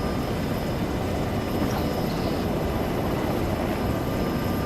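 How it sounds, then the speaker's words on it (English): A helicopter in the Arma 3 video game drones steadily, a dense, even rotor and engine roar filling the whole stretch without pauses or talk. "I mean, we're in helicopters."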